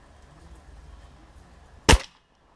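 A single sharp crack from a Stoeger RX20 TAC Dynamic air rifle firing at a 20-metre target breaks a quiet outdoor background, dying away quickly into near silence.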